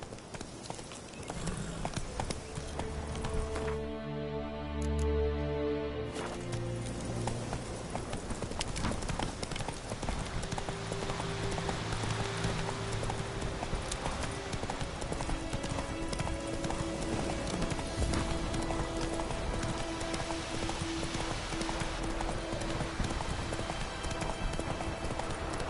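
Roach, Geralt's horse in The Witcher 3, gallops with steady rhythmic clip-clop hoofbeats throughout, close and continuous under game music, with a low tonal passage early on.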